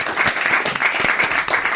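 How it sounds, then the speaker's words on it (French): Studio audience applause with cheering on a French talk show as a guest walks in, a dense, steady roar of clapping that fills the whole stretch without pause. "les acclamations, la joie"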